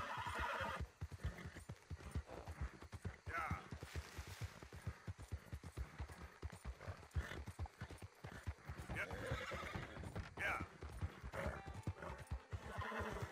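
A horse in Red Dead Redemption 2 clip-clops with steady, continuous hoofbeats throughout and neighs loudly, all close and prominent with no talk over it.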